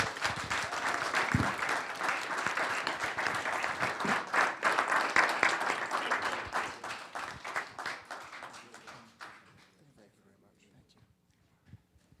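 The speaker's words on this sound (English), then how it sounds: "Big round of applause." A room full of people at a town council meeting claps steadily for several seconds, then the applause thins out and fades, with a voice briefly heard.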